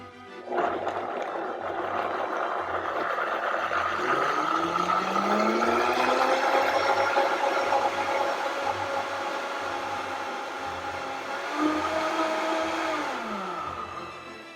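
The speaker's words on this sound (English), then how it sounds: "so we have everything in the blender." A blender making a whole apple vinaigrette whirs steadily for the whole stretch, its motor pitch shifting and bending as the contents churn, loud and close with no talking.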